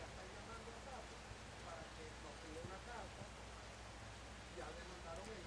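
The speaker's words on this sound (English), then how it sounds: "Rain is not putting this combination off so far." Rain falls steadily at an outdoor show jumping team competition, a constant soft hiss with faint patter, its level barely changing throughout.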